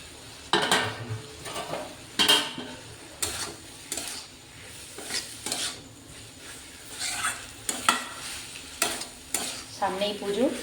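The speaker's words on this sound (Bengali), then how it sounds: "এবারে গ্রেট করে রাখা পনিরটা আমি দিয়ে দেবো ওর মধ্যে।" Grated paneer for paneer bhurji fries in a pan while a utensil stirs it. Repeated metal scrapes and clanks against the pan sound over a low, steady sizzle, close and fairly quiet, with no talking.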